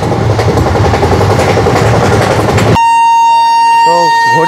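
A Maa Tara Express train at Bolpur station, with loud rumbling running noise that cuts off into a long, steady, high horn blast, then two short bending tones near the end.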